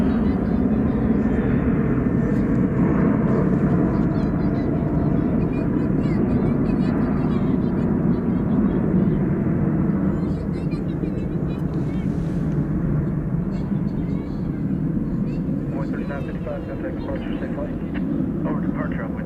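American Airlines Boeing 737-800 departing Dallas Fort Worth for Austin at night, a loud, steady jet rumble filling the whole stretch with only slight easing toward the end; a voice talks over it.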